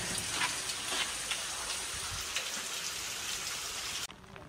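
Steady monsoon rain patters and hisses on surfaces nearby on Lohagad Fort near Pune, a dense continuous wash that suddenly drops away near the end.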